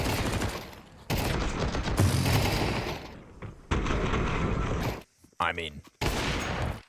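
Rapid machine-gun bursts from an MP9 submachine gun in a professional Counter-Strike match, loud and close in several separate volleys, with a caster talking over and between them.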